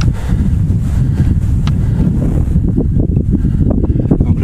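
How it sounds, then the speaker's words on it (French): Steady wind buffeting the microphone outdoors on a mountain hike in the Aravis, a continuous low rumble with gusty fluctuations and no voices. "Il y a du vent."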